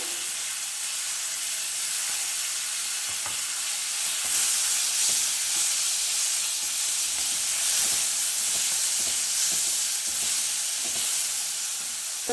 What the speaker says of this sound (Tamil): புளி கரைச்சல் ஊற்றுறதுக்கு முந்தி தக்காளி பழத்தை போட்டு நல்லா வதக்கிடலாங்க